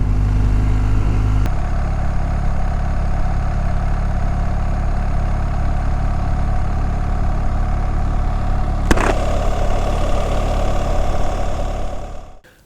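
BMW GS motorcycle engine held at about 4,000 rpm in first gear, a loud steady drone that continues for several seconds before the revs fall away near the end, recorded close with no talking.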